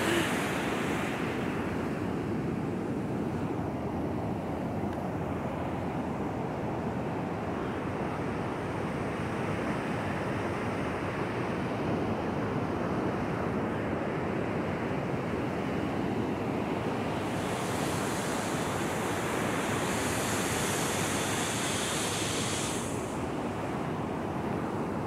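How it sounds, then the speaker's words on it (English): Steady roar of ocean surf, waves breaking continuously with wind rushing across the microphone, loud and unbroken throughout. "There's some incredible waves out there."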